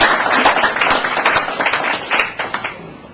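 A breakfast club audience claps together in a steady wash of applause, loud and close, lasting a few seconds before thinning out.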